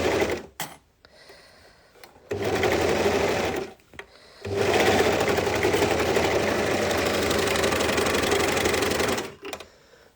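An overlocker stitches together the raw edges of fabric for a long-sleeve baby tee. After a few short stop-start bursts, the machine runs in two loud, steady whirring stretches, one lasting about two seconds and the next about five.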